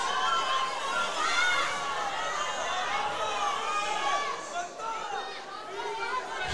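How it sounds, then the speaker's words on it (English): A weightlifting competition crowd, Kuo versus Alvarez, fills the arena with a steady wash of chatter and cheering that holds throughout, easing slightly near the end. "The crowd now needs to quieten down and give her a moment."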